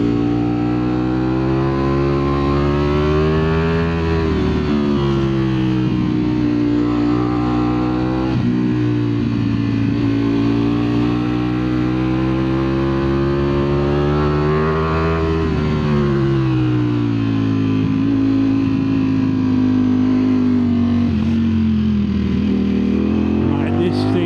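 A 2025 Ducati Streetfighter V4S motorcycle engine droning and rising and falling in pitch as it revs through gears while riding, loud and continuous with wind rush.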